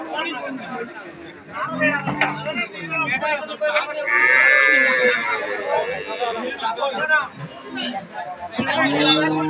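A large Holstein Friesian dairy cow with a calf lows at a busy rural cattle market, one long moo rising above loud crowd chatter and nearby voices talking throughout.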